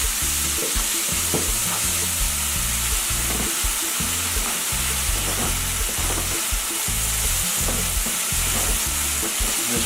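Black rice djon djon with salt is stirred in a pot over a steady sizzle, with a spoon scraping in soft repeated strokes close up.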